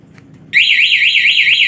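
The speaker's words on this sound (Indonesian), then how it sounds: "jadi kita tekan tombol alarm" A Bohante motorcycle alarm fitted to a Honda CB150R switches on abruptly and wails loudly and close, a steady warbling electronic siren rising and falling in a quick regular cycle after a brief quiet start.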